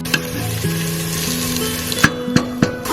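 Onions and ginger frying in a pan for an Anglo-Indian beef and vegetable stew: a steady loud sizzle with a few sharp stirring clacks, over faint background music.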